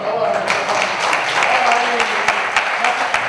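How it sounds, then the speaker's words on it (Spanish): An audience at a mystery talk in Zamora breaks into applause, a steady patter of many hands with distinct louder claps near the mic, faint voices mixed in. "¡Un aplauso!"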